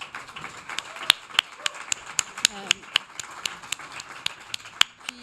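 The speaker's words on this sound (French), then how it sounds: "Je pense d'ailleurs qu'on peut aussi les applaudir" Sparse, sharp claps ring out at a steady rhythm from a small audience in a meeting hall, each clap distinct rather than blending into a roar, with people talking underneath.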